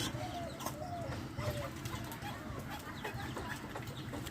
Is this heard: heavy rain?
no